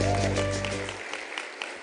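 Applause ripples through the audience at a Women in Science awards ceremony, a busy spread of clapping that begins over a brief sustained musical tone and then continues alone, gradually easing off.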